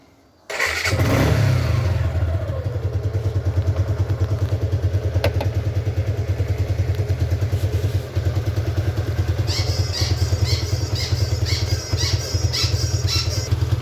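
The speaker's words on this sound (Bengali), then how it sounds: "গাড়িটি নিউট্রাল অবস্থায় রয়েছে গাড়ির সাউন্ড শুনতে পাচ্ছেন খুব সুন্দর একটি সাউন্ড" A 2024 Suzuki Gixxer Monotone motorcycle engine fires up with a sudden start, then settles into a steady, close, throbbing idle in neutral, with a slight tick layered on later.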